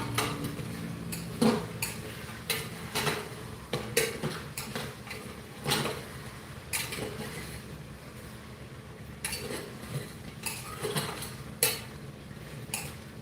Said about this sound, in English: that is for my oxtail pot. Give it another stir.